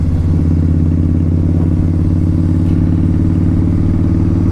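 A 2003 Harley-Davidson V-Rod rides along at a steady, loud engine drone, a constant close rumble with a faint rattling texture and no voices.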